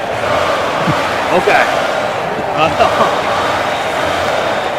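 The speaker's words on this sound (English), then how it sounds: "Oh boy, listen to this crowd." A college basketball crowd in a simulated game, Illinois trailing, gives a continuous broad roar of many voices with a few louder swells while a commentator speaks over it.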